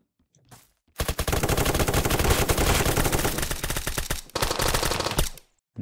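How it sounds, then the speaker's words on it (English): Rapid automatic gunfire from a video game bursts out loud and close, a long continuous rattle of shots broken by a brief pause before a final short burst, with no voices. "That sounds like more shooting."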